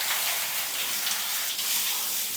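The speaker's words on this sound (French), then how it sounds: "Donc là, tu peux rincer." Water rinsing shampoo out of curly hair, a steady close hiss of running water with no talk.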